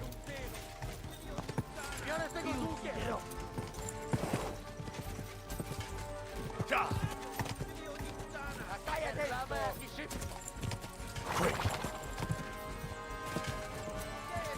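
A horse gallops in Kingdom Come Deliverance 2, its rhythmic clip-clop hoofbeats running steadily throughout under occasional voices.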